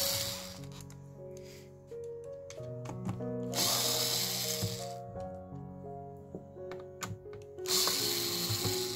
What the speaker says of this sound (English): take off the screws that hold the back cover onto the speedometer